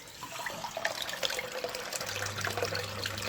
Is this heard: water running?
yes